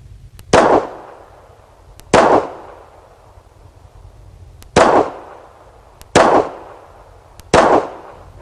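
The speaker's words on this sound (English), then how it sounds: "We're going to shoot this Bersa Thunder380 and see how well it does." Five pistol shots from a Bersa Thunder 380 firing leaded round-nose rounds outdoors, each a sharp, loud crack with a short decaying tail, spaced irregularly a second or two apart.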